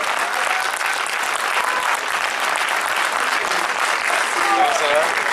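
Audience applause for guests arriving at a film premiere of Gaston Lagaffe, a steady, dense wash of clapping from a crowd filling the whole stretch, with faint voices and whistles rising near the end.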